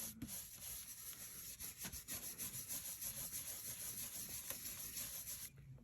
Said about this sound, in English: I'm going to gently rub over my stencil, holding it in place